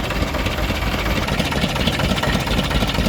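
Vintage stationary engines run together at an outdoor Victorian extravaganza show in Llandudno, a loud, steady, dense chugging and rumbling with continuous vibration and no pauses.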